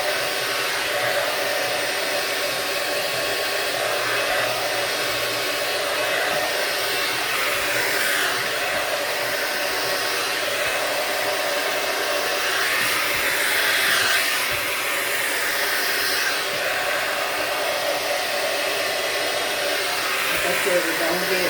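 A blow dryer runs continuously on hair treated with a moisturizing mask while it is brushed through, a steady loud airy whoosh with slight shifts in tone as the dryer moves.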